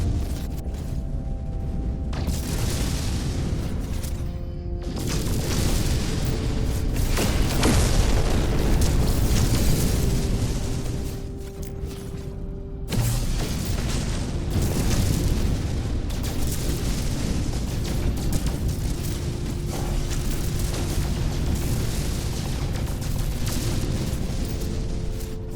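Rocket explosions in the video game No Man's Sky, a loud sustained barrage of booming blasts and rumbling bursts that keeps going, with brief dips between volleys and no talk.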